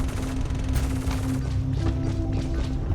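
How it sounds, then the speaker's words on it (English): Gatling gun fire in the video game Star Citizen, a steady dense stream of rapid shots blending into a continuous roar with tonal whine from the weapon, loud and close throughout with no talk. "I just doesn't want to get tickled by this Gatling gun"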